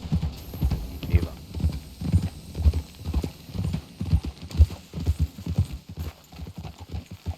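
Horse hooves clip-clop at a steady walking rhythm in the Red Dead Redemption 2 video game, close and clear, with a brief whinny and muffled game dialogue mixed in.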